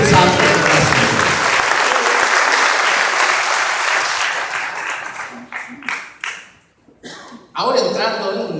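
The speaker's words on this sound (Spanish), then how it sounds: "Un fuerte aplauso, porque es el Espíritu Santo que está haciendo." A church audience at a charismatic renewal gathering breaks into loud, sustained applause that thins after a few seconds into scattered claps and then swells once more near the end.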